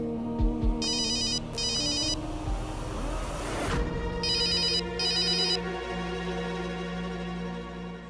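A phone ringtone plays in two bursts of repeated electronic chirps, separated by a short gap, loud and close over a steady background hum.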